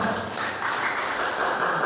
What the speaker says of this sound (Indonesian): Tepuk tangan untuk seluruh warga masyarakat.